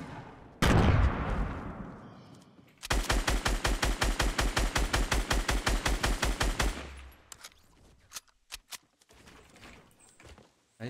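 A minigun in the Fortnite video game fires a long, loud, rapid rattling burst of evenly spaced shots lasting about four seconds, preceded by a heavy blast and followed by scattered faint clicks and thuds.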